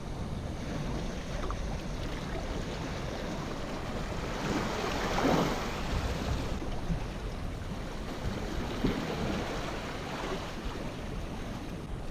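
Ocean waves surging against rocks at La Zurriola beach in San Sebastian, a broad, steady wash of surf with wind buffeting the microphone and a couple of swelling crashes midway.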